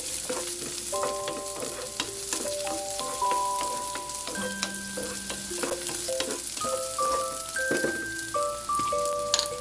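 Garlic and white onion frying in hot oil for adobo-style milkfish belly, a dense continuous crackling sizzle with occasional stirring knocks, close and steady throughout, while soft tonal background music plays and no one speaks.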